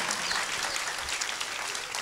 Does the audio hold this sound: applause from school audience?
yes